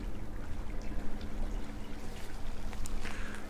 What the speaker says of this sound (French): Vous écoutez le bruit des vagues